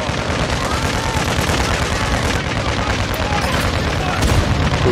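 Rapid gunfire in the video game Modern Warfare 2 on a small map, dense continuous shooting with sharp bursts under a player talking.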